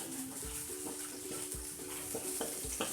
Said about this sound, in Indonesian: kita masuk udangnya, kita tumis supaya kaldu udangnya keluar ya teman-teman.